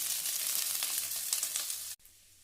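Spinach stems hit hot sesame oil in a tempering of fenugreek, dried red chilli, asafoetida and curry leaves, giving a steady close sizzle that cuts off abruptly near the end.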